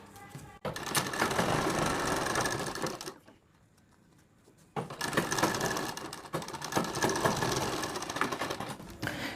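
A sewing machine stitches a blouse collar in steady, rapid mechanical bursts that stop for about two seconds mid-way, then resume at close range.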